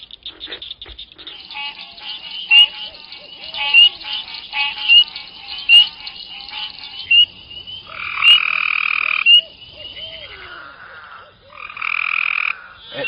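Frogs croaking and trilling in a Georgia swamp wetland at night, a loud close chorus of pulsing calls that swells into long sustained bursts, with bird-like chirps mixed in.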